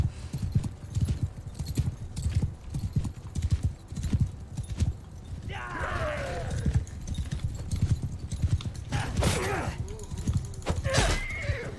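Rapid hoofbeats of a galloping horse in a medieval video game, a dense continuous clatter, broken by a loud whinny partway through and another near the end, with someone talking in the background.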